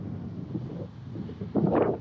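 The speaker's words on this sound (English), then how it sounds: "it's very windy, but also the wind just has like a little cold bite to it" Wind gusts buffet the microphone in a low, rumbling roar that swells louder near the end, on a cold, windy beach at Carolina Beach.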